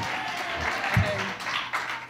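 A crowd at a gospel festival claps and cheers in a dense, continuous wash of applause, with voices mixed in throughout.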